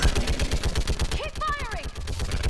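Rapid automatic gunfire cracks in a steady burst through a firefight in Mass Effect Legendary Edition, loud and continuous, while a voice shouts over the shooting.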